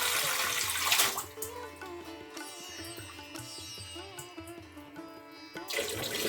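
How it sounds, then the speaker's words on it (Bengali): Rice being washed by hand in clean water in a pot in a home kitchen, with steady sloshing, swirling and splashing throughout, close and moderately loud. "এখন আমি পরিষ্কার জলে চালটাকে ধুয়ে নেব"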